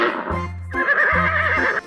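A white toy horse gives a short, loud, close neigh with a shrill whinnying rise and a quavering tail, heard alone.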